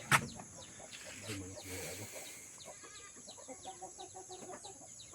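Chickens cluck at close range in a brother's chicken house, with short, irregular calls scattered across the scene while people talk nearby.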